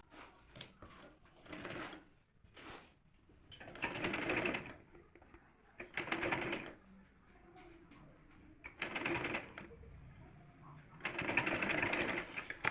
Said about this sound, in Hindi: तो चलिए इसे सिलाई लगाकर बैठा देते हैं।